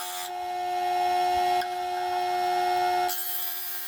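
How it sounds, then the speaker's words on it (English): A Rikon 8-inch slow speed bench grinder runs continuously with a steady tonal hum while a woodturning tool with simple angled profiles is sharpened against the wheel, with a brief shift in tone partway and near the end. "this seems like a good test go of using it with the grinder"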